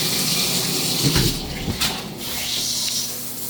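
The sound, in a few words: motel shower running water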